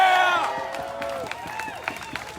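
A crowd at a community rally cheers with shouts and whoops that fade over a couple of seconds, followed by scattered claps and calls.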